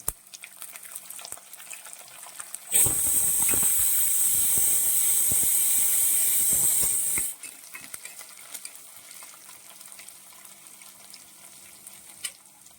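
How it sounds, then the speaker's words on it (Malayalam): Ginger, garlic and curry leaves hit hot oil in a pan with a loud, steady sizzle and hiss for about four seconds, then the frying falls back to a quiet crackle. "നമുക്കിനി ഇതിലേക്ക് ഇഞ്ചിയും വെളുത്തുള്ളിയും കൂടി ഇട്ട് കൊടുക്കാം. അതൊന്ന് നന്നായിട്ടൊന്ന് വഴണ്ട് വരയ്ക്കാം"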